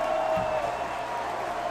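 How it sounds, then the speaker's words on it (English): A home basketball crowd at an Evansville Purple Aces game against the Miami RedHawks rises to its feet, a steady, loud roar of cheering and voices filling the arena without a break. "And the crowd on their feet"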